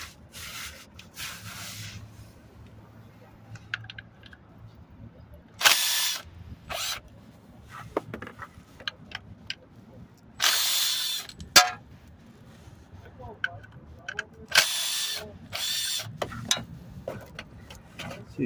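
A power tool works bolts loose from a transmission filter under a Nissan Altima, with sharp bursts of whirring and ratcheting between quieter scraping and handling noise, loud and near.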